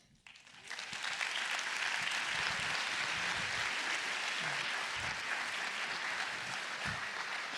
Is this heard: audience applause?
yes